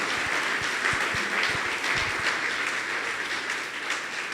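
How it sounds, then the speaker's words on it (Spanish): A church congregation applauds loudly and continuously, a dense wash of clapping with a low hum underneath. "Dale un aplauso fuerte al Señor."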